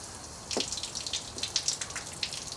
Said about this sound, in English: I'm looking down at that lower hose right now, and I've got clean water coming out.